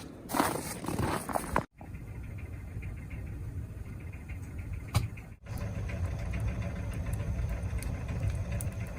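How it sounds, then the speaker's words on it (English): Footsteps crunching and squeaking on very cold snow outside a tiny off-grid cabin in extreme cold near -40F, steady rhythmic crunches close by, with a brief pause partway through. "as soon as the snow starts crunching like this, when you're walking, how it kind of squeaks a little"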